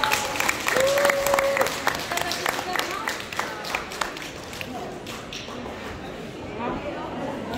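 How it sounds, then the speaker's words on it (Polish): Audience applause at a WCF Ring Young cat show results announcement, a dense steady clatter of many hands lasting throughout and slowly easing off, with voices murmuring underneath. "Wielkie brawa."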